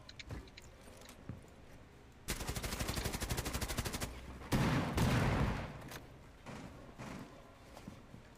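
Automatic gunfire in the Rainbow Six Siege video game, a long rapid burst followed by a second heavier burst and a few scattered single shots, close and loud against a quiet background.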